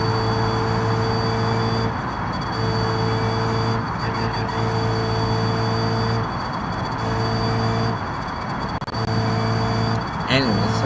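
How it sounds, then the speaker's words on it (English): A car in the BeamNG.drive driving game runs with a steady tonal engine drone, its exhaust crackling and popping at intervals, while someone talks over it throughout. "this car is still popping and shocking in the back"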